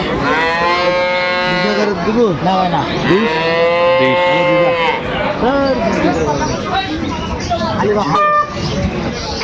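Cows and calves at a livestock market give loud, drawn-out moos, one after another, close by. Crowd chatter and a distant horn run underneath.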